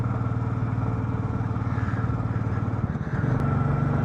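A loaded motorbike rides a mountain road toward Kargil, its engine droning steadily and close throughout, with a slight rise in pitch near the end as the rider works the throttle.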